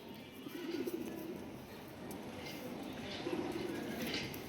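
Tournament racing pigeons, including one with a purple neck, coo softly in a loft, low murmuring calls repeating over a steady background hiss.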